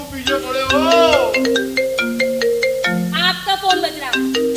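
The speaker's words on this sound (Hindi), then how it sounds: "आपका फोन बज रहा।" A mobile phone ringtone plays loudly and close by, a bright melodic tune of repeating chime-like notes that continues throughout the clip.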